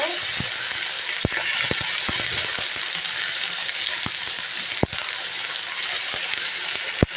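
Ginger-garlic paste fries in a pan for a home chicken curry, a steady loud hiss of sizzling oil broken by occasional sharp clicks of a spoon against the pan, with no talking.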